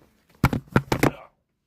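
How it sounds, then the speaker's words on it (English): A man blows his nose in a few quick, forceful bursts close up, a cluster of short honking blasts lasting under a second, with quiet before and after. "I gotta blow my nose here."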